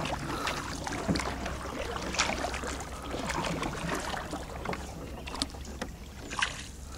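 A boat moves along a river with a steady broadband rush, splashing and some wind buffeting the microphone throughout.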